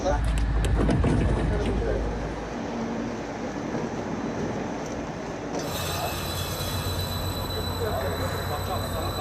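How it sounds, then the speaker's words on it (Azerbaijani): A Baku–Qazakh express passenger train pulls out of Baku railway station, its steady wheel rumble and rail noise broken by squealing wheels early on, then a high tonal whine that sets in partway through and holds to the end. "qatar Bakı Dəmir Yol Vağzalından Qazaxa doğru hərəkətə başladı"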